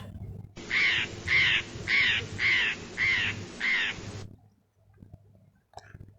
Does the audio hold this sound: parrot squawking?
yes